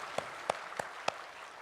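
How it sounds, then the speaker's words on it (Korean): Four sharp, evenly spaced hand claps ring out in a church service, each a distinct crack over a low hiss of the room. "평강의 박수를 하나님께 드리겠습니다."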